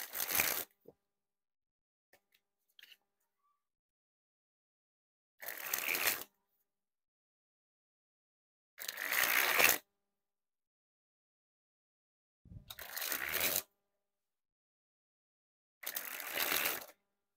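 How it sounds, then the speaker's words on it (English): A brand-new Bicycle Pumpkin playing card deck sprung from hand to hand in four separate bursts, each a quick crisp riffling flutter lasting about a second, close and clear, with silence between. "We'll spring the deck."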